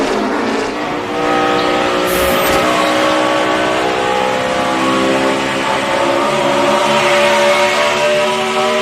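NASCAR Cup race cars at Dover in the 2012 FedEx 400, a loud continuous engine roar with rising and falling pitch as several cars run past close by, with no voices over it.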